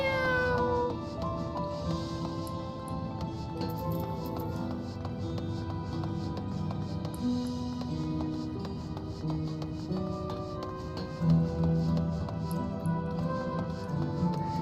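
A cat meows repeatedly in the video game Final Fantasy XIV Dawntrail, its cries sitting over a continuous melodic game soundtrack that carries through the whole stretch.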